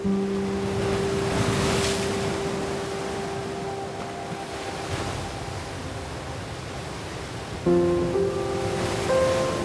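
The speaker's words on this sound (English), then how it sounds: "Look at the majesty of the ocean." Ocean waves surge and wash steadily along the shore at Muxia, Spain, a broad continuous roar with gentle swells and a faint tonal hum in the background.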